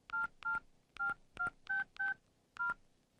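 Mobile phone keypad tones as a number is dialed: seven short, clean beeps in an uneven rhythm, close and clear against a quiet background.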